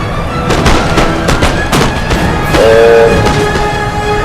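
Musket volleys crackle through a Napoleon: Total War battle, with a rapid scatter of sharp shots over steady battlefield rumble and a sustained horn-like tone midway.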